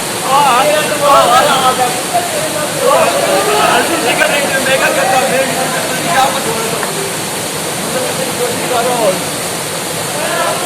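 Noori Waterfall near Haripur roars as a steady broadband rush of falling water, with people talking over it throughout.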